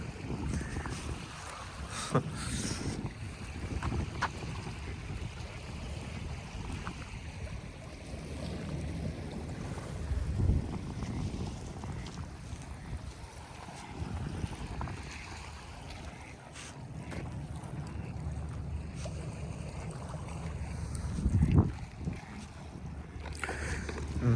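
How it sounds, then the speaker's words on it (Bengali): A cargo boat moves off along a river in Belgrade, its low engine rumble rising and falling at a distance amid wind noise on the microphone and lapping water, without voices. "ওইটা হচ্ছে কার্গো একটা হ্যাঁ মালবাহী কার্গো মাল খালাস করে ওরা চলে যেতেছে"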